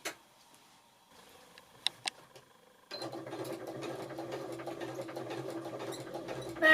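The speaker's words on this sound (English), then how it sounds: "I will just stitch to where I want to finish, and then on this machine, if I press the reverse button, it will lock the stitch for me" A sewing machine stitching a quilt, with a few faint clicks and taps at first, then a steady rapid whirring run of stitches that ends in a short burst as the stitch is reverse-locked.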